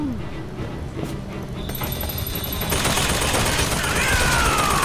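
Gunfire in the video game Bioshock Infinite, sharp shots and bursts over dense game effects and electronic tones, growing louder and busier toward the end.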